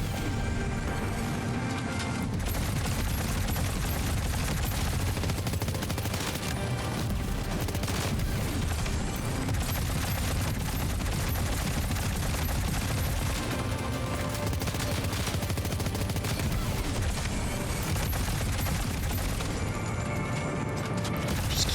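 Cover fire from allied squadmates in Death Stranding 2, a steady, dense clatter of continuous gunfire and mechanical rattling that holds at the same level throughout, with no voices.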